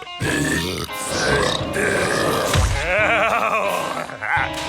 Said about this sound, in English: That is some serious burpage.